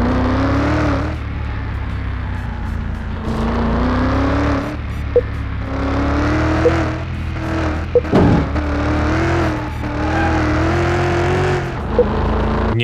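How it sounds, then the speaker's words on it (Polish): A car test-driven after repairs for off-road damage, its engine droning steadily with a rough, rumbling tone from inside the cabin and a few faint clicks and knocks over the top. "Okej, sprawdźmy, jak działa samochód."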